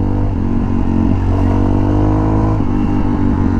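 A Yamaha XT660R single-cylinder 660cc motorcycle engine roars loud and close, holding a steady, throbbing rev with slight rises and dips throughout, no voices over it.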